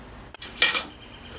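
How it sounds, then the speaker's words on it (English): Eggs with sugar and vanilla roughly stirred in a bowl for a yogurt carrot cake, a short burst of utensil clinks and scraping against the bowl, close and alone. "Now with the eggs, I'm going to mix it."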